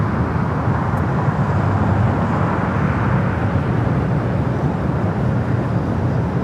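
Airbus A321neo jet at LAX on approach toward the west gates, a steady broadband roar of engine and airflow holding loud and even throughout with no talk over it.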